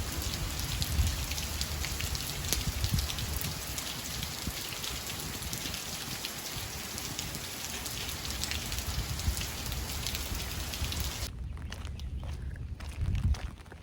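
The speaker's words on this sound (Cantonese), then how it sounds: "好大雨" Heavy rain pours on a Hong Kong hilltop during a hike, a dense, steady hiss of drops hitting surfaces close by that continues for many seconds, then drops to a thinner patter near the end.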